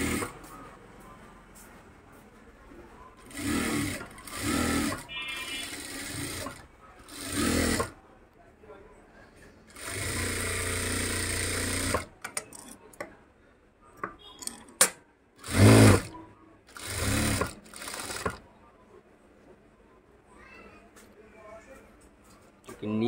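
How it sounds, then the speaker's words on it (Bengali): A sewing machine stitches the lower hem of a panjabi garment in several separate bursts of running, with pauses between, near and fairly loud, alongside speech. "নিচের সাইডটা আর কি ঘের করা হচ্ছে, সেলাই করা হচ্ছে।"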